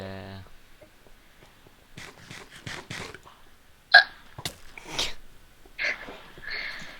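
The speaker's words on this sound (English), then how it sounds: "I'm getting an ab workout from this, hiccups." A person hiccups, with a sharp loud catch near the middle and a few softer gulping bursts around it, mixed in with chatter and breathy noises from people nearby.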